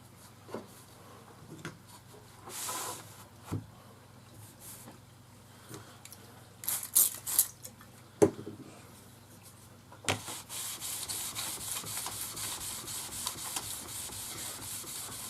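A planer blade slides back and forth in a sharpening jig on 1200 grit abrasive, making close scraping and rubbing strokes. The strokes are spaced at first, then settle into steady continuous rubbing, with no talking.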